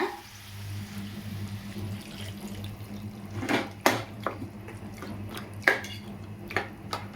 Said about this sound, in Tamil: தண்ணி வந்து கொஞ்சம் ஊற்றிக்கலாங்க